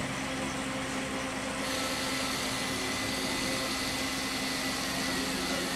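A 4-5 inch FPV racing drone motor spins steadily during a bench test, giving a continuous close whirring hum with a constant tonal whine and no speech.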